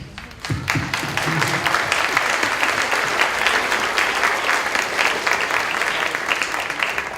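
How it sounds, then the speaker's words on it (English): A large audience bursts into sustained, loud applause that continues steadily throughout, with a faint murmur of voices beneath the clapping. "So I'd like to give you a round of applause"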